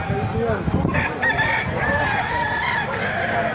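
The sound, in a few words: chickens at a poultry market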